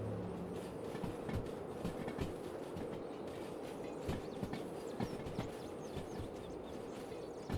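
A train rolls along in the Derail Valley railway game, a continuous low rumble with rhythmic clickety-clack of wheels over rail joints, steady and fairly faint.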